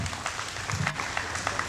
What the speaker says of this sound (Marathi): या ताईसाठी जोरदार टाळ्या पुन्हा एकदा